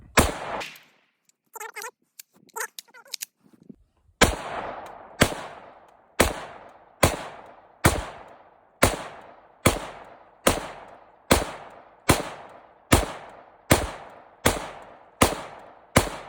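Rifle fire from 5.56 rounds dumped into level 4 and soft armor inserts with a dirt mound behind, heard as a few scattered early shots and then a steady run of about fourteen loud, evenly spaced reports, each ringing out briefly.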